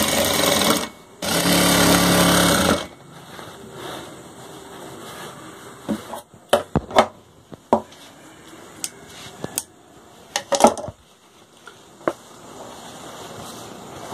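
A sewing machine runs in a loud whirring burst while stitching one side seam of a pair of wrestler's underwear (kachha), then gives way to scattered clicks and taps of the fabric being handled.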